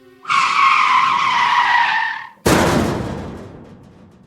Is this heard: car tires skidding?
yes